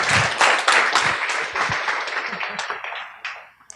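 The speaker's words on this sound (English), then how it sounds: "Let's give Elena a great round of applause" An audience at a student day presentation gives a round of applause for a guest speaker, a dense burst of clapping that swells quickly and then thins out and fades over a few seconds.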